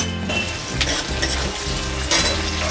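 Dried red chillies and bay leaves spit and crackle in hot oil in a pan for a rohu fish curry with raw banana, a dense, steady sizzle with brief louder bursts near the start and end.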